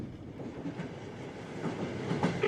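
The Trans-Siberian train runs on its rails, giving a steady rumbling roll with faint rhythmic clicks and a soft squeal of wheels, heard from inside at moderate distance.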